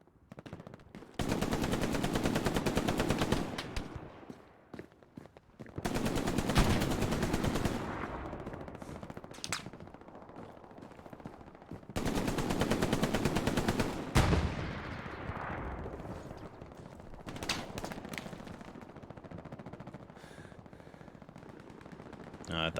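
Machine-gun and rifle fire from the World War II shooter Hell Let Loose in a night battle rattles in long sustained bursts separated by short pauses, with quieter distant shots trailing between them.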